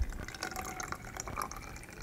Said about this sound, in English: you're gonna take your water and very carefully, you're gonna pour it in